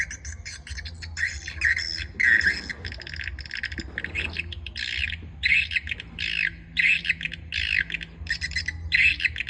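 A single bird circling over a rice field at dusk gives repeated harsh squawking calls in short bursts, fairly close, over a quiet rural background.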